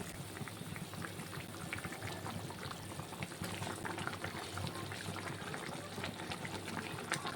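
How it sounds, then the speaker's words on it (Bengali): Fish curry broth for a bhetki and pabda coriander dish boiling in a pot, a steady, dense bubbling that carries on evenly from start to finish. "তরকারির ঝোলটা ফুটে গেছে"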